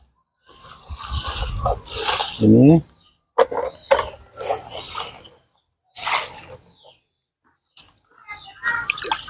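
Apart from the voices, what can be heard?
watering a potted tangerine plant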